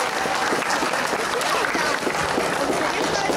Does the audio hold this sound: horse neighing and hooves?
no